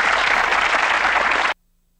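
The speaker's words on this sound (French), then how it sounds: "On les applaudit très fort." Audience applause in a 1983 film, a dense, loud burst of clapping that stops abruptly after about a second and a half, followed by silence.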